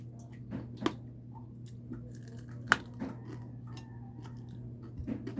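Someone munching a crunchy lunch bite in a home kitchen, soft close-up chewing with occasional sharper crunch clicks over a low steady background hum.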